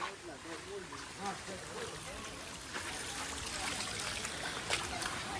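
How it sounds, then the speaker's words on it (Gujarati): Steady running rainwater with a broad hissing wash throughout, flowing nearby on the steps of Girnar mountain, Junagadh, during monsoon rain, with faint voices underneath. "તો પાણી વહી રહ્યું છે અહીંયા"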